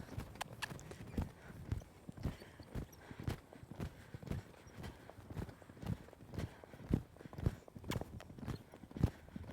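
Horse hooves in a rhythmic clip-clop at a lope during a colt-starting training session, a steady run of close, distinct footfalls with little else around them.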